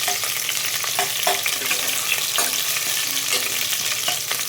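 Chopped onion in a tempering for a greens and lentil curry sizzles and fries in a pan, a loud, close, steady hiss with scattered crackles and pops throughout.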